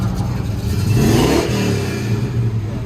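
A 1981 GMC Caballero V8 with true dual exhaust and long tube headers revved once, heard from inside the cab: a loud, deep engine swell that rises to a peak and settles back to a rumbling idle.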